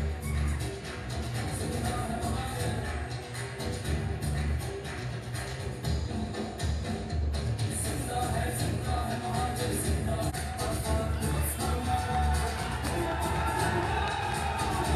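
Crowd at an MQM political rally in Surjani, cheering and applauding in a steady, sustained roar with shouts rising above the noise.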